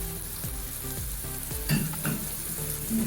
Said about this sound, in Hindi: ये सारे मसाले हमने इसमें डाल दिए और इसको थोड़ा सा भून लीजिए।